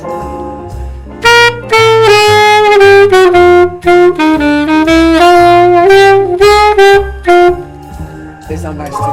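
A jazz saxophone plays a solo line full of chromatic passing tones, the phrases moving in quick stepwise runs and held notes, loud and close, over a soft low backing.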